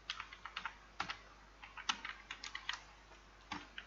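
Quiet, close typing on a computer keyboard: irregular clusters of light key clicks with short pauses, alone without talk.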